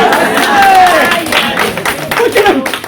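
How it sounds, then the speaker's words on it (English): An audience at a variety show claps and cheers briefly, the applause rising under a comedian's loud, close speech. "Look at him hard clapping in the back."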